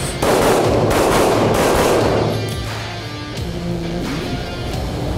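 Loud rapid gunfire at a security institute's shooting demonstration, a dense close burst of shots that fades after about two seconds into a lingering rumble and hum.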